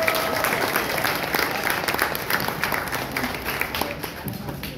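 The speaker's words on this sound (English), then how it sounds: "Let's hear it for Mario Miranda" Audience at an open-mic night at LOL Comedy Club in San Antonio applauding after a stand-up set: steady, dense clapping from a crowd filling the room, with scattered cheers mixed in.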